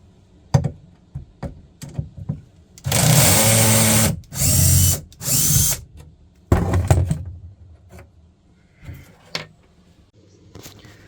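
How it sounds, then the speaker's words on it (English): A power drill set too high whirs loudly in three short bursts while working on an RV slide-out, mixed with clunks, knocks and handling noises nearby. "My setting on my drill is set too high."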